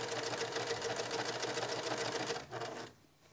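Sewing machine back stitching to finish a quilt binding, a steady fast mechanical whir running close and even for several seconds before slowing briefly and stopping.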